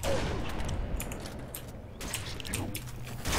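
Sniper rifle fire in the Halo 3 video game: sharp gunshot cracks, moderately quiet and somewhat distant, repeating at irregular intervals amid other battle noise.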